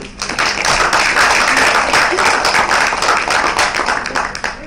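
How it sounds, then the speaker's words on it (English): Audience applause at a panel on co-production among African countries, close, brisk hand clapping that holds steady for several seconds before tapering off. "Let us have a round of applause for Isioma Idigbe."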